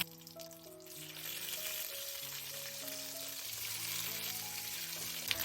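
Steady frying sizzle of eggplant slices in a pan fills the clip, a constant crackling hiss with soft music-like tones underneath, continuous and fairly close.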